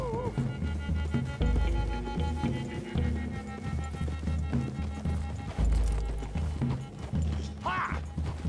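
Rhythmic hoofbeats clop along under a musical score in Red Dead Redemption 2, with a brief horse whinny near the end.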